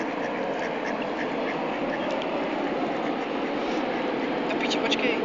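Ducklings quacking near water, small busy peeps and quacks scattered over a constant rushing background, with outdoor commotion and people's voices faintly mixed in.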